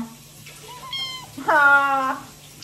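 A cat meows close by, first a short questioning mew and then a longer, louder plaintive meow, in a quiet indoor room.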